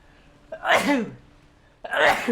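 Two close, sharp sneezes separated by a short pause, each a quick breathy burst.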